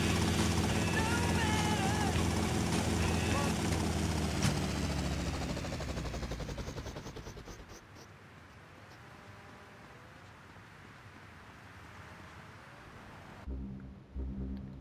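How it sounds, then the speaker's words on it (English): Police helicopters circle in GTA Vice City, a loud, dense rotor roar that dominates the first half, then thins to a quieter, steadier drone before a brief sharper burst near the end. "Got a few police helicopters here trying to arrest us."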